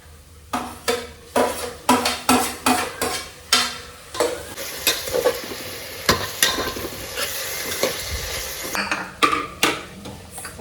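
Onion and tomato frying in a pan for egg biryani, a steady sizzle under sharp, repeated scrapes and taps of a spoon stirring against the pan, close and clear.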